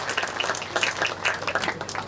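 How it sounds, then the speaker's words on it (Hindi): Audience at a political rally stage clapping for the Prime Minister, a brisk, fairly loud burst of many hands with uneven rhythmic peaks throughout. "एक बार प्रधानमंत्री जी के लिए जोरदार ताली बजानी चाहिए"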